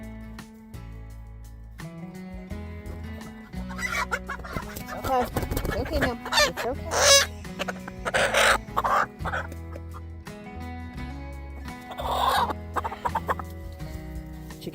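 Chickens cluck and squawk at close range while being picked up and carried in a snowy November garden, with the carrier's soothing voice talking over them in bursts.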